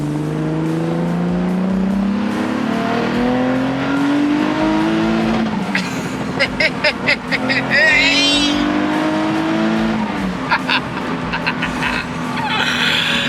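A twin-turbo Nissan 370Z running on E85 is driven hard on a track, its engine droning and climbing through gears with sharp shift breaks, turbo chatter and flutter bursts, loud and close throughout with occasional speech.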